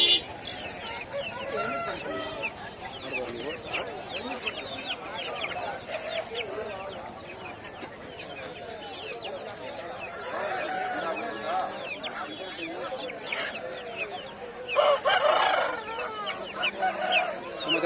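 Roosters and hens at a large country market for desi native breed chickens crow and cluck in a busy, overlapping din, with a loud burst of crowing near the end and people talking in the background.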